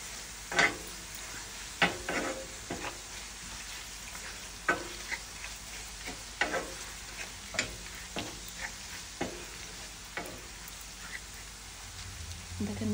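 Shrimp fry with spices in a pan, a soft steady sizzle broken by repeated scraping knocks of stirring at an irregular pace, fairly quiet and close.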